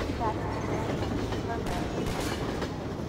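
Train passing in the video game Half-Life 2: a steady, loud rumbling roll with rhythmic clacking, continuous and close throughout.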